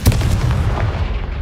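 A Confringo spell blast in Hogwarts Legacy, one loud booming impact right at the start that rolls into a heavy low rumble and fades over about a second.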